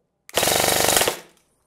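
A Specna Arms E06 airsoft rifle firing on full auto, one loud buzzing burst of rapid shots lasting just under a second and then cutting off, with no talking.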